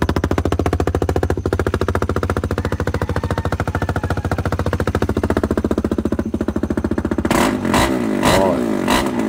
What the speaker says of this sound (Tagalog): Okay, tulad nito. KTM 390cc. Sound check.